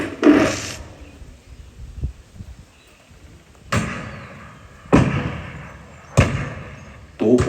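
Cannon shots of a 21-gun salute boom one after another at spaced intervals, each a sharp loud blast followed by a rolling, decaying echo.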